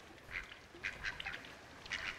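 Ducks quack in The Lost Crown video game, a few short nasal calls spaced across the moment, fairly faint against a quiet ambient bed with no talking.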